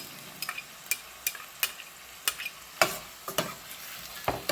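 Finely chopped ginger and garlic sautéing in a pan for Indian-style mackerel fish curry, heard as a soft, steady sizzle broken by a series of sharp, irregular stirring clicks from a utensil. No one speaks.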